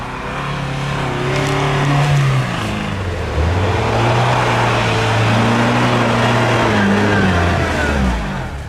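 An off-road jeep climbs onto snow with a loud, steady engine drone that rises and falls in pitch as it revs, close by, with no talking.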